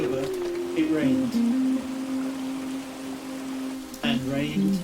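Steady rain falls outdoors around a village by the River Wye in late October, a constant hiss beneath a sustained low musical tone, with brief louder patches.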